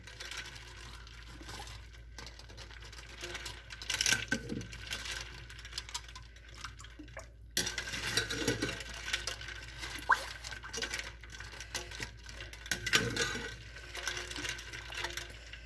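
Stuffed pasta shells stirred in a pot of water, giving soft watery swishes and light clinks that come and go in irregular bursts, with louder splashy moments around the middle and later on.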